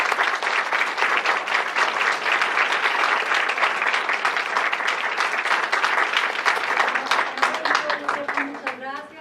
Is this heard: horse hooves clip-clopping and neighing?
no